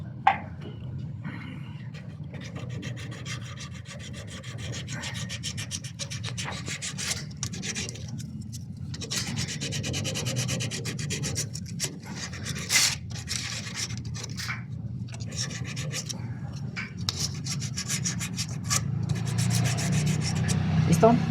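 A refrigerator's copper line is sanded clean by hand, making a continuous close scratchy rubbing with rhythmic strokes that slowly grows louder.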